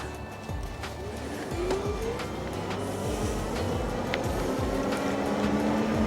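Ecotric Cheetah folding fat tire electric bike riding on throttle, a steady motor whine rising in pitch as it speeds up, under wind rush and rolling tire noise, with faint speech.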